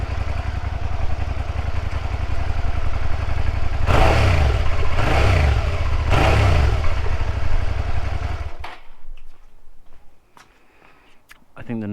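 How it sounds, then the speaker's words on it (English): A cold Suzuki SV650 S motorcycle with a new, loud aftermarket exhaust idles with a deep throb, then gets three sharp throttle blips in a row before the engine note drops away into quieter background. "It's cold obviously, but I'll give it a blip."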